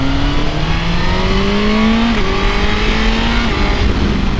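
A 2022 Suzuki GSX-S 1000GT sport-touring motorcycle engine pulls hard under acceleration, its steady tone climbing through a quick gear shift and climbing again, loud and close with no talking.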